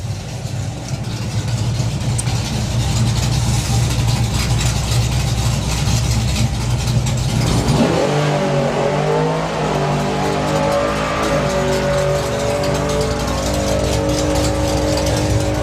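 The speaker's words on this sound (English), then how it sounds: "So Don Scott going through his first pass, and it's a 980, 132" Hot rod drag racing car making a pass at a drag strip, its loud engine roaring and revving under full throttle and then changing pitch as it runs down the track, with no talk over it.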